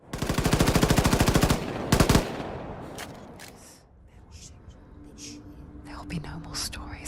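A video game gunshot effect made from a regular gunshot recording's punch with a flying-firework tail: loud rapid bursts of automatic fire up front, then a fading airy whoosh and scattered softer sounds, with faint voices whispering near the end.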